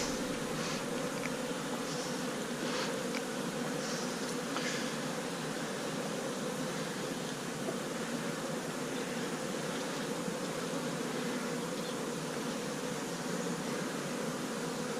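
Honeybees hum in a winter beehive opened on a warm January day, making a steady, even buzz that holds throughout, dotted with brief louder passes of single bees flying near.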